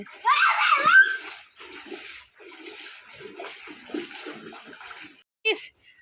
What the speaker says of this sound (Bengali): দেখো বসে বসে কিরকম জল ঘাঁটছে